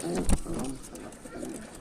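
Pigeons kept at a loft in Tanta give soft, low cooing in a brief murmuring burst, faint against background noise, with a sharp knock near the start.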